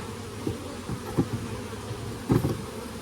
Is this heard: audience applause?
no